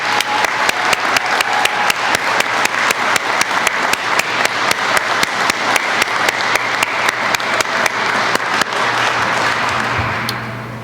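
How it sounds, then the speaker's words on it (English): An audience claps for graduates of a chief fire officer graduation ceremony. Sustained, loud applause is topped by a rhythmic, evenly spaced clap close by, then thins and fades near the end, with no talk. "If we could give the graduates one more round of applause for the success."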